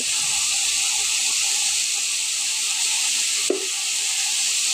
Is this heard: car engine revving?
no